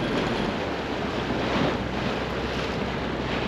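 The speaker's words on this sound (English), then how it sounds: "But the wind's starting to tickle up now." Wind gusting over open sea while aboard a boat, with waves washing and a constant buffeting roar of wind against the microphone, steady and fairly loud with no voices.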